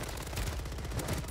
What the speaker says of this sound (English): I'm going for the hip fire kill.